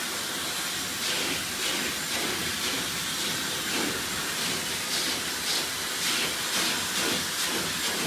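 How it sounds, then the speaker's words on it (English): A hair dryer with its nozzle removed blows a steady, loud, broadband airy rush throughout as hair is dried, with small fluctuations as it moves around. "I'm drying the hair in different directions, getting control of the root pattern."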